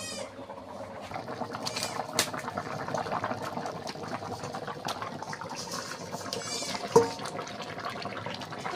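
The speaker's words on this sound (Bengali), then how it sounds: "তরকারিটা আমার ভালো রকম ভাবে ফুটছে" Fish curry bubbles in a pot, a low busy simmer of small pops and gurgles with a sharp clink near the end, quiet and with no talking.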